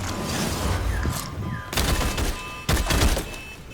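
Bursts of gunfire from entity guards in the video game Bloodhunt, two dense volleys of rapid shots, loud and close, separated by a brief lull with faint mechanical whines.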